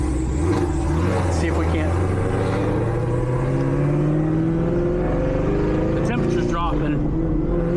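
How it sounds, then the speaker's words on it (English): The supercharged LT4 V8 of a Camaro ZL1 builds power with a rising, tonal blower whine over a deep engine roar, close and loud, while someone talks over it. "I really, really hope that blower whine's coming through"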